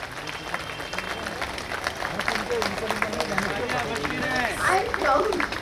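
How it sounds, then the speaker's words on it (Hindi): Standing ovation for a community leader called to the stage, a large crowd clapping and cheering with a busy hubbub and babble of voices underneath, steady and full throughout. "खड़े होकर जोरदार तालियों से स्वागत करते हैं हम।"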